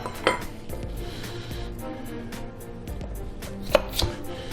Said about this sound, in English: Strip them down the middle. Okay, cut them right down the middle, make them a little bit smaller.